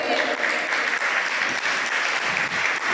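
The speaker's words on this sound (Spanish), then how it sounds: "¿Me das un aplauso a Dios?" A church audience gives sustained, even applause during a talk on healthy families, a full wash of many hands clapping loudly from start to finish.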